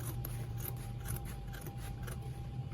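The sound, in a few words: trimming excess fabric, likely with scissors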